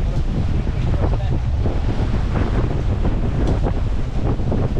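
Strong wind buffeting a microphone on a boat at sea, a loud continuous roar with gusty rumbling and surf-like wash.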